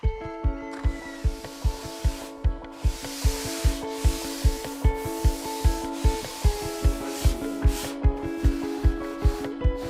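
A surfboard shaper near La Torche hand-sands a custom board with quick, even back-and-forth strokes, about two or three each second, close and steady for the whole stretch over a constant tonal drone.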